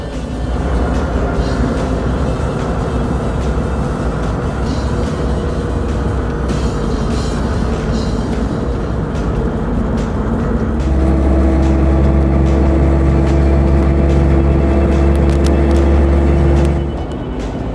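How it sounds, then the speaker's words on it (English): Roadster powered by a tank engine cruises through city streets in Los Angeles, a loud, steady low-pitched engine drone that deepens into a heavier rumble partway through, with no speech. "how could I pass up the chance to wrangle a tank-powered car around the streets of LA?"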